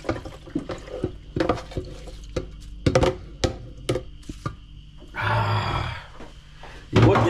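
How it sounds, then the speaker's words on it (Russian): Leftover marinade poured into a hot pot of oxtails on a powerful stove, giving a loud liquid splash and sizzle after a run of sharp clinks and knocks. "Сейчас добавляем оставшийся маринад."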